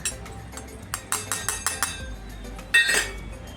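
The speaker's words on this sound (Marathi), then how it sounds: "आणि असं चमच्याने किंवा बोटाने एकत्र करा आणि हलवून घ्या" A spoon clinks rhythmically against a bowl while mixing cashews with chilli powder, turmeric and chaat masala, about eight quick close taps followed by one louder scrape.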